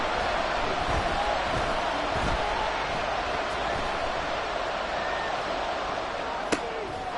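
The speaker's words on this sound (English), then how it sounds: "the crowd getting into it as we come up on a big 3rd down" A stadium crowd at a football game roars in a steady, distant wash of cheering ahead of a big third down, with a few sharp thuds and a crack near the end, and a commentator talks over it.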